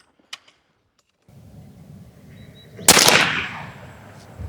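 Edgun Leshiy 9mm air rifle firing a JSB pellet, heard as one loud, sharp report with a bright decaying tail over low background rumble, preceded by faint small clicks.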